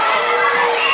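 A wrestling crowd cheering for a wrestler in the ring, a dense, steady roar of many voices filling the whole moment at close, loud level.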